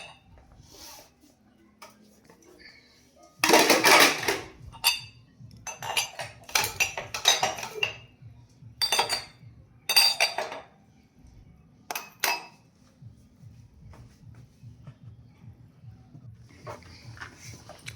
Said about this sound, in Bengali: সেই চায়ের কাপ আর প্লেটগুলো ওগুলো ধুয়ে নিচ্ছিলাম